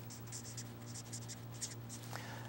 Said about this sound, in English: So let's go ahead and write moles ethanol.